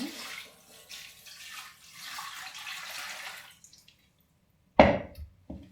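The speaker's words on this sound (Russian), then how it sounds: "Наливаем воду." Water poured into a kitchen pot lined with a cloth for canning jars of tomatoes, a soft continuous splashing trickle that fades out, followed by a couple of sharp knocks near the end.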